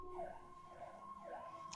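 Wailing emergency vehicle siren passing through a city, its rising and falling sweeps continuous and fairly faint at a distance, steady across the short stretch with no talk over it.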